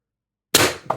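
A single sharp shot from a Pistelle X-68 Punisher foam blaster fitted with a Huben power stock and drum mag, a loud crack after silence with a brief second click right after.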